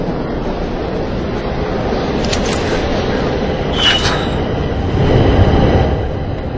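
A train moves in the video game Darkness, giving a continuous rumbling rattle of wheels and carriages with faint squealing and a slight swell in loudness toward the end.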